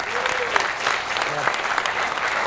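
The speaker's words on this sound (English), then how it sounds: "Everybody clapping." Audience clapping at an outdoor game fair, a steady wash of applause from a crowd with occasional voices mixed in, moderately loud throughout.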